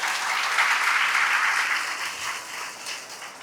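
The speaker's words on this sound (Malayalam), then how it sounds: "അവരോട് പ്രത്യേകം ഒന്ന് കൈയടിച്ച് എല്ലാവരും" An audience at a stage show applauds together in a dense, sustained clatter of clapping that stays strong and then gradually thins and softens toward the end.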